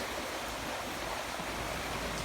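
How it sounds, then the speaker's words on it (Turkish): A river flows directly below a rocky, muddy trail, giving a steady broadband rush of water that stays even and continuous throughout. "Aşağısı direkt nehir."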